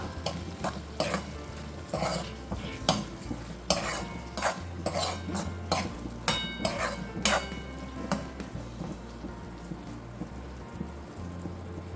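Salted pumpkin curry being stirred in a pan, with a steady run of spoon scrapes and light clinks against the metal over a soft background hiss, close and continuous.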